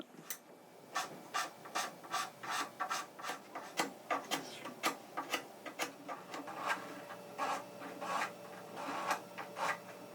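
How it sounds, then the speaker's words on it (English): Sharpened scraping tool working the outside edges of an ebony violin nut, a close series of crisp rhythmic scraping strokes, each a short rasping burst repeated steadily. "Jeff sharpens a scraping tool and proceeds to scrape all of the outside edges of the nut"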